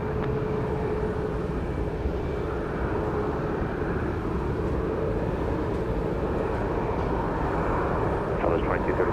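A Southwest airliner rolls for takeoff from runway 31 right at Dallas Love Field, its engines a steady, loud, even roar throughout with no letup.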